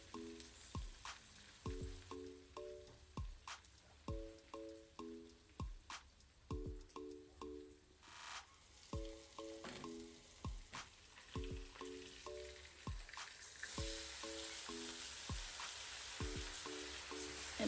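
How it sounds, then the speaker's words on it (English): Rice and onion frying in a pan, a steady close sizzle with repeated light clinks and scrapes of stirring, and a background melody of tonal notes running underneath; no one talks. "So I'll just let the rice fry for a bit before adding my water"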